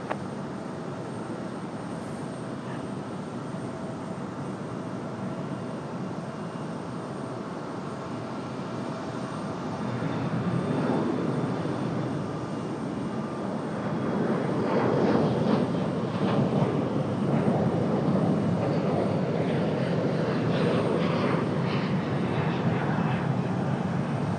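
A jet airliner at Raleigh-Durham International Airport gives a broad, steady roar that builds louder partway through and stays strong, heard from a fair distance with no talk.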